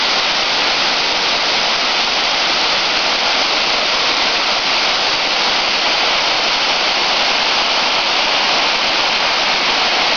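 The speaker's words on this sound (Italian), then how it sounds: "guardate che bella cascata" A waterfall roars as a dense, constant rush of falling water, loud and unbroken throughout, with no voices.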